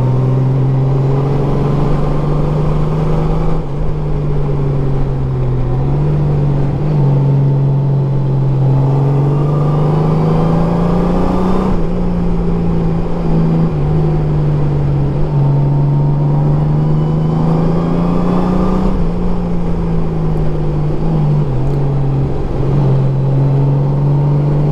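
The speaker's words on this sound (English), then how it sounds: "let's put it in sport mode." A 2018 Honda Goldwing engine in sport mode pulls hard, a loud steady drone rising and dipping through several gear changes over about twenty-five seconds, with no voices over it.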